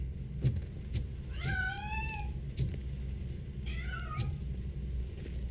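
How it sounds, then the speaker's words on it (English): A cat hidden inside a piano in the game RoboCop: Rogue City meows twice, the calls rising and falling, over a steady low background hum with a few soft clicks. "That cat must be hiding inside."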